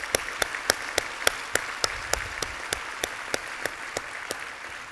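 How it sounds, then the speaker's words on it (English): An audience at a business awards event applauds, a broad bed of clapping with one close, sharp clapper beating out an even, quick rhythm on top for the whole stretch. "another big round of applause"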